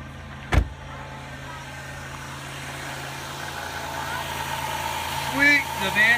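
A fourth-generation Chrysler van engine idles with a steady low hum, preceded by a brief sharp click, while faint talk surfaces near the end.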